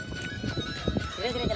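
A horse being ridden, with soft hoof clops and a brief snort under close, excited talking by people nearby.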